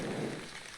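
Soft, steady rain falls in the village-building game The Wandering Village, a brief, faint wash of hiss with no other sounds.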